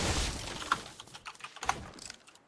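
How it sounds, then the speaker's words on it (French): Fast bursts of clicking keys on a computer keyboard rattle in quick clusters, set against a noisy background hiss that fades out near the end. "c'est qui fait des tap-tap révolution avec son clavier?"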